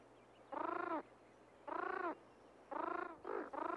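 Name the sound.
band-tailed pigeons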